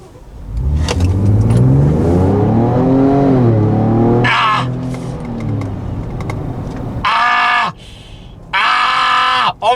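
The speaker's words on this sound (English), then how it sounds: "I accelerated, the engine screams, but for a nanosecond there's a lag." A 2023 Ford Ranger Raptor engine revs hard under full acceleration, its pitch climbing through the gears, then easing off before more loud revving bursts close by.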